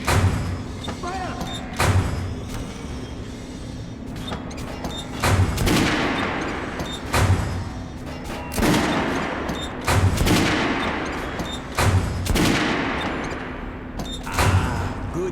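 Rifle gunfire in Metro Last Light Redux rings out in repeated loud bursts and single sharp shots spread across the whole stretch, each crack trailing a booming tail, with shouted commands and a low steady hum beneath.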